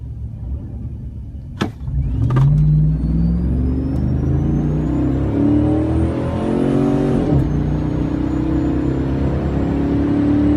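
A car accelerates hard down an abandoned racetrack, its engine pulling strongly with loud rising gear sweeps and a brief shift break, the roar steady and close throughout.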